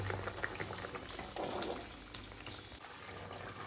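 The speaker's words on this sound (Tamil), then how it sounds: "கொதிச்சு கலர்ஃபுல்லாக ஆயிடுச்சு" Dried fish curry simmering in a pot, a faint, soft bubbling boil with small liquid pops, quiet and continuous, no talking.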